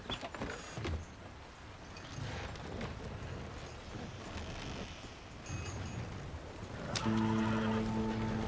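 Horse hooves galloping on a road in the game Red Dead Redemption 2, a rapid muffled drumming throughout, with a short neigh and other game sounds near the end.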